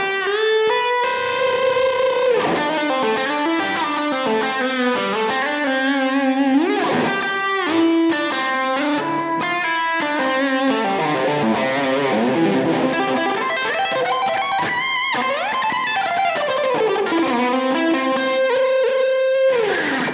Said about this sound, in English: this is a bit more of like a room style reverb.